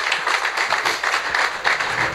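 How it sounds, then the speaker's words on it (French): An audience applauds a bank's director general at an opening address, dense, steady clapping filling the room without any voices. "on peut l'applaudir, s'il vous plaît"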